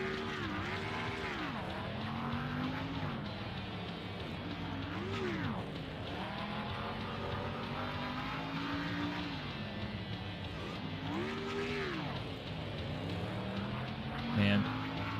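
A NASCAR race car engine drones steadily in the NASCAR Thunder 2003 video game on the Texas quarter-mile track, pitch rising and falling through laps, with someone talking over it.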